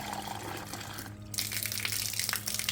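Tap water gushes steadily into a container through a water filter, a continuous broadband rush that briefly dips before running on loud and unbroken.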